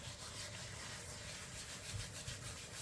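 Roasted dried fenugreek leaves (kasuri methi) being crushed between the hands in a home kitchen, making a steady, close, dry rubbing rustle that stays soft and continuous throughout.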